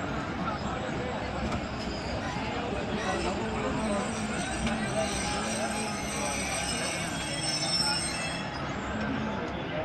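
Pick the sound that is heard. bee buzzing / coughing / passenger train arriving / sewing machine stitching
passenger train arriving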